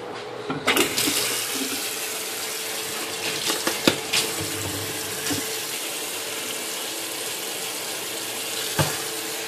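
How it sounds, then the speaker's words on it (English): Water runs steadily from a kitchen tap while hands are washed during meatloaf prep, a loud continuous rush with a few brief clicks and knocks over it. "Now she's gonna wash her hands."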